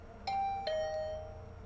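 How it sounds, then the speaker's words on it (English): A doorbell in a visual novel video game gives a two-tone ding-dong, the first strike then a second a beat later, with a clear lingering ring that fades slowly on its own. "The bell rang again."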